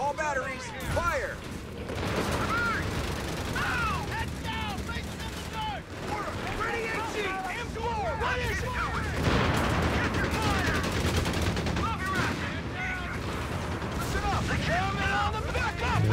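Artillery batteries firing in Company of Heroes 3 during a late-game US forces versus Wehrmacht armor battle: a dense, continuous barrage of loud booms and gunfire, with voices and radio chatter running underneath.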